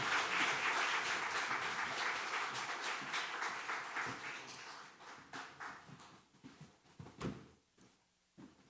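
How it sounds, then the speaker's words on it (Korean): A church congregation at a Sunday worship service claps to welcome the pastor, a broad wash of many hands that is fairly faint and thins into scattered, separate claps toward the end. "우리 피 목사님 나오실 때 우리 큰 박수로 환영해 주시기 바랍니다."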